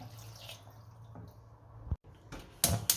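About half a glass of cold water splashes into a pan of meat and mushrooms in short pours, close up, with a brief clatter and a sharper burst of hissing splash at the end.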